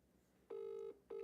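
WhatsApp outgoing call ringback tone, two steady beeps, the first held about half a second, the second starting as the clip ends, quiet and alone.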